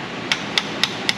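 Four sharp, evenly spaced hammer blows, about a quarter second apart, ring out while a steering rack is being freed from a 2003 Ford Mustang GT 4.6, close by with no voices.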